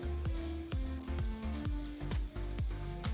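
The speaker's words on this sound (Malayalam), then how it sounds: "അതുപോലെ ഒന്ന് റോസ്റ്റ് ചെയ്തെടുക്കാം" An egg side dish roasts in a hot pan dusted with chili and pepper powder, giving a steady close sizzle with a rhythmic series of scraping stirs and turns, no voices.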